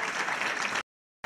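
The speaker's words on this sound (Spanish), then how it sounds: "ese aplauso bien grande para Alejandra" A short burst of audience applause at a Spanish Christmas gala for a child on stage, filling most of the moment, then cutting to silence before resuming briefly.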